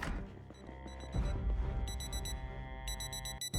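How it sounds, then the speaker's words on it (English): A wristwatch alarm goes off in the video game Project Zomboid, repeated bursts of high electronic beeping over a dense, droning game soundscape with low rumble underneath. "There's a fucking alarm going off."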